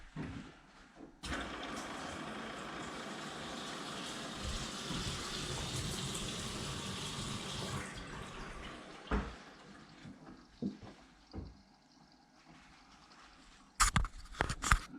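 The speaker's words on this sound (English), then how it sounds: "let's put water back on" Water gushes from household taps as the supply is restored by a plumber, a steady rushing flow lasting several seconds before cutting off, followed by scattered knocks and clunks of pipework.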